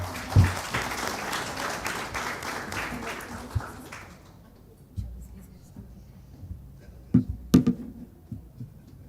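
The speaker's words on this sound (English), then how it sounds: "Please give applause to Hannah." Brief applause from a talk-show audience at a glass art event, fading out after about four seconds, followed by quiet room noise with a few isolated knocks and handling bumps.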